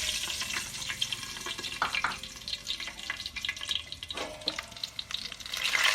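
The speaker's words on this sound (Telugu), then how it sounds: "నూనె వేడైంది, ఎండుమిరపకాయలు వేసుకోవాలి." Dried red chillies crackle and sizzle in hot oil in a pan while a leafy kale curry is being started, with a steady frying hiss and a few sharper pops, and no one talking.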